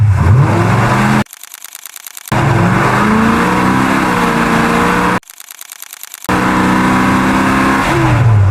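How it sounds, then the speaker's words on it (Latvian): A car accelerates hard with a loud, close engine roar, broken twice by brief dropouts where the sound cuts sharply, as it runs up, jumps and slams against a barrier. "Mašīna ieskrienas, lec un atsies pret malu."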